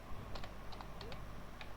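Quiet keystrokes on a computer keyboard while Django web code is typed, a few sparse, soft clicks in small clusters over a steady low background hum.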